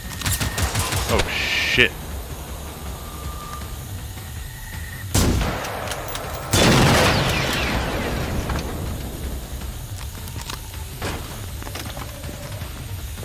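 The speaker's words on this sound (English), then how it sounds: "Oh, I'm getting shot at." Gunfire in the video game Generation Zero: sharp shots and bursts crackle through a hissy game soundscape, with two loud heavy blasts midway and scattered fainter reports after, while a player briefly exclaims.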